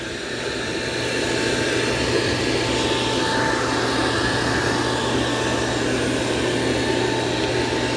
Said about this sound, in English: It's lowered the mop pads, they're spinning. And it's got the vacuum on.